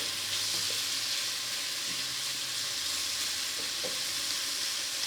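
Food sautéing in a pan makes a steady, close sizzling hiss for several seconds, with a few faint stirring clicks mixed in.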